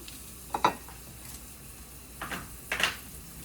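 Dry red chillies torn into a pan for broccoli dal tempering give a faint, steady sizzle, with a few brief stirring scrapes at intervals and no talking.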